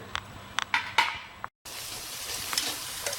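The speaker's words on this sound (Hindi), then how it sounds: "अब इस मसाले को हम 2-3 मिनट खुला करके भून लेंगे।" Desi chicken masala, nearly tender, fried in an open pan: scraping stirring strokes and clinks of a spoon against the pan over a low, steady sizzle, followed by a brief dropout and then a denser hiss.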